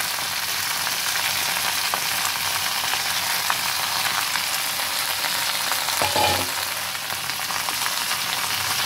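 Jute leaves (pat shak) cooking in a pan give off a continuous, fairly loud sizzle with soft stirring scrapes, and one brief clatter partway through.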